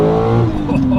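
A Swiss-built Porsche 911 restomod engine revs hard toward a 7,000 RPM redline, a loud, rising, rasping wail that fills the short burst.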